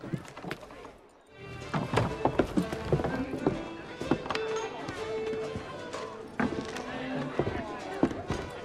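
Horse hooves in the Assassin's Creed III video game, a busy irregular run of thuds and clip-clops over game music and ambient noise, with a brief dip to near silence near the start.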